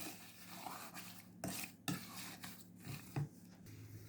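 A spoon stirs quietly in a pot of white cherries and sugar for jam, soft scraping broken by a few light clinks, faint and close with no talking.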